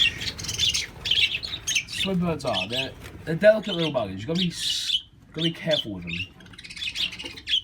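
Pet budgies chirp and squawk in their cage while eggs are checked, sharp close bursts of bright calls interspersed with someone speaking quietly nearby.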